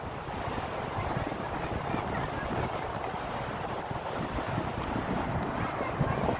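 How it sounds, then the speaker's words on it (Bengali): Constant roar of sea surf and breaking waves on a beach mixed with heavy wind buffeting the microphone, no clear gaps between swells. "দেখতে পাচ্ছ ফ্রেন্ডস, সমুদ্রের আওয়াজ, ঢেউ।"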